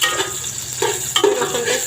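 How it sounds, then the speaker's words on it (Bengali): Garlic frying in oil in a pot for chicken fried rice, a steady close sizzle with a few louder bursts of crackle as it is stirred, and no talking. "এই যে আমার রসুনটা ভাজা হয়ে গেছে"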